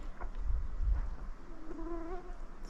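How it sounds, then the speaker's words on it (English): Faint, whining mosquitoes and wasps buzz past, thin and high-pitched, over a low, muffled rumble, high up at Floe Lake. "there are so many mosquitoes and wasps up here"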